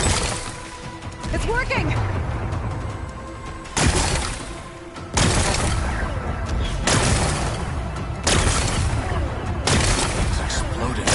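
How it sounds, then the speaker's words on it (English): Rocks blasted apart in Horizon Forbidden West, heard as four loud, sharp broadband explosive bursts spaced a few seconds apart, each followed by rumbling debris over a busy game soundscape, with a voice briefly speaking. "Gotta blast away some rocks, so I can expose the power cell."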